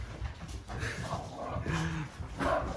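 A dog close by gives whimpers, yips and small barks in short irregular bursts, with a few muffled noises in between.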